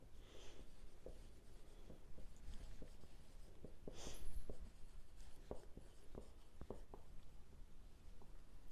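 A pen scratches across paper while a geometry solution about a right-angle triangle is written out, with quiet irregular strokes and taps in a still room.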